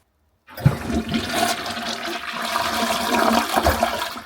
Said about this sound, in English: Let's give this a good flush.